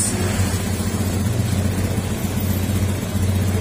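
A Honda Beat FI motor scooter engine idles steadily with a low, even putter throughout, close by and continuous, with no voices.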